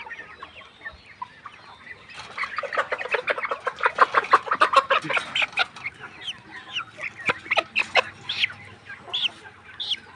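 A flock of chickens with watery eyes clucks busily, a rapid run of close, fairly loud clucks building after a quiet start and then continuing in looser bursts.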